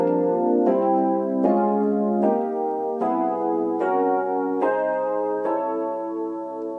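Gospel piano chords over a held C bass from the intro of a song, about eight rhythmic chord strikes at a steady, moderate pace, played alone with no voices.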